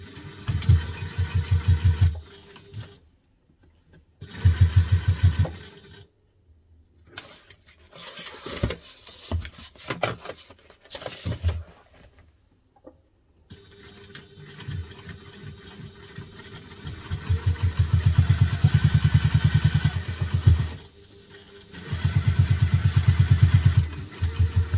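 A sewing machine topstitches around a small fabric double-zip mini wallet, its motor whirring close up in several separate runs that start and stop, with short pauses and handling between bursts.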